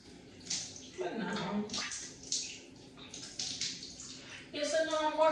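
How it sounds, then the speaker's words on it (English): Water splashes and trickles as facial wash is rinsed off a face, close by in a series of uneven bursts, with a voice briefly heard between them. "so now I'm washing off that facial wash off my face"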